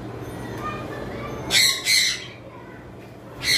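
Red-eye fallow lovebirds in a breeder's collection give a few shrill, close squawks in short bursts over a low murmur of background noise.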